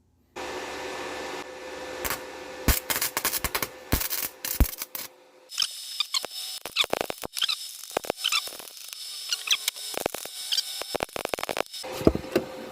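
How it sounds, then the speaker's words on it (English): Arc welding on a custom clutch master cylinder part for an Acura: a steady buzzing hum gives way to irregular, sharp crackling bursts and spatter, close and fairly loud, with no talking. "I'm going to start welding on this."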